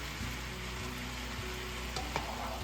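Peppers and onions frying for jambalaya, a steady close sizzle with faint stirring scrapes and no talk.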